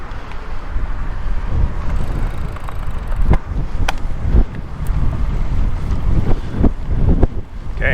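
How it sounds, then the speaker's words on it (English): Strong wind buffets the microphone in a steady, loud roar on a busy roadside, with brief gusty thumps and faint traffic underneath, and no voices. "Very windy."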